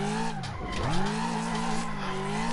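A car drifts at a practice session, its engine droning as the tires squeal in a long sustained skid, the pitch dipping and rising again.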